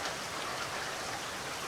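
Rain falls in a steady, even hiss of drops on surfaces, fairly soft and constant throughout with no voices.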